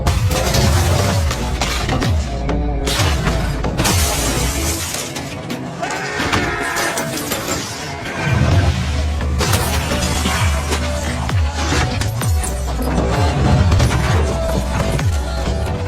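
A police car plunges into a ravine in a movie scene: a dense, loud stretch of crashing, smashing and shattering impacts with booming bursts that runs on without a break.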